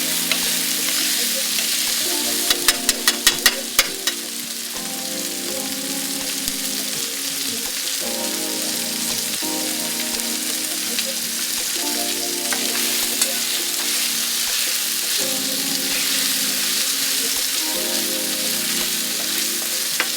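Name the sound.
tomato sauce frying in oil in a pan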